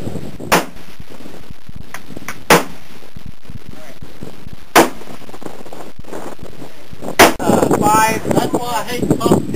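A Mosin Nagant M38 rifle fires single shots while being sighted at 50 yards outdoors, four sharp loud reports spaced a couple of seconds apart, followed by wind buffeting and a person talking.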